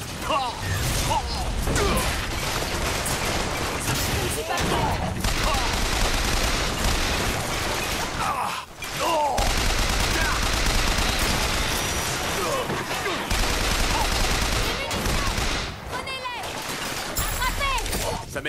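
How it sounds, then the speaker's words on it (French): In the shooter game Bioshock Infinite, an automated turret fires in dense, sustained rattling bursts amid loud combat noise, with brief pauses and whooshing impacts, and a voice is heard talking over the action. "C'est une tourelle, vite!"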